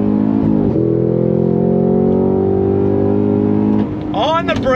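A 2023 Cadillac CT5-V Blackwing launches hard from launch control, its engine rising in a loud sustained rev with a brief shift near the start, while a voice exclaims over it near the end.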